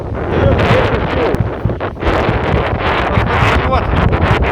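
Strong wind roars and buffets the microphone at a forest fire, a loud, continuous rushing gust with crackling and rustling layered through it.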